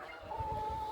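A single short rooster call rings out nearby over a low, rumbling background as rain begins.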